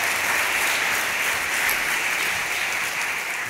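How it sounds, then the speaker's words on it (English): Steady applause from a conference audience as a speaker walks onstage at a Drupal community event, dense and sustained at even loudness throughout, with no voices over it. "Give him a big applause."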